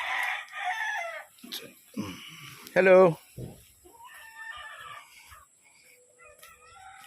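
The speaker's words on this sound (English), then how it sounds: "There's some chickens. More chickens." Chickens cluck and a rooster crows loudly nearby on a street in the Philippines, with scattered clucks continuing outdoors while a person briefly greets someone.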